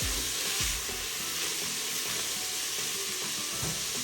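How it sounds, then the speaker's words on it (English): Onions frying in a pan for a homestyle beef and spinach curry, with a steady close sizzle throughout and a few soft stirring scrapes, no talking. "we're gonna fry these onions until it gets softer"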